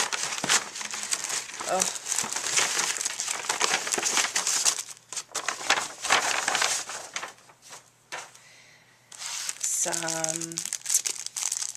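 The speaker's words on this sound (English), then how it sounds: "Let's open and see what we have in here." A paper envelope is torn open and handled, giving continuous crinkling and rustling close by with brief pauses, while a person speaks a short word or two partway through.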